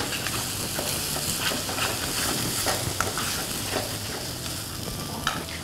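Green chutney fries with onions in a pan, a steady sizzle broken by frequent scraping stirs and small clacks from a utensil, close and continuous without talk.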